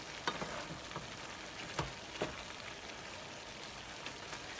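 Pork liver igado, Ilocos style, frying and being stirred in a pan, giving a steady soft sizzle with a few brief scraping clicks from the stirring and no talk.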